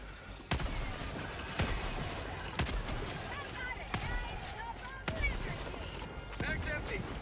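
Rapid bursts of video game gunfire fire until the magazine runs dry, sharp repeated cracks at roughly one-second intervals over a busy battle mix, with voices talking throughout.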